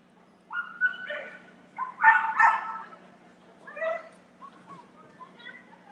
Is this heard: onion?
no